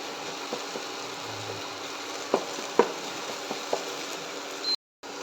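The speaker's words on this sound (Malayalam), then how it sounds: "മുട്ട ചെറുതായിട്ടൊന്ന് കട്ടി വന്നപ്പോഴേക്കും നമ്മൾ കൂട്ടുമായിട്ട് അതിനെ മിക്സ് ചെയ്ത് കൊടുക്കുകയാണ്" Egg frying in a pan and being stirred into masala for Kerala-style egg rice: a steady soft sizzle with a few light scraping taps of the spoon, quiet and close, no talking.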